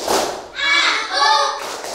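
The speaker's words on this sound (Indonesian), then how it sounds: "Tepuk konsentrasi." A classroom of students does the rhythmic concentration clap, a short burst of clapping and thumping blended with loud group chanting in two strong phrases, close and energetic.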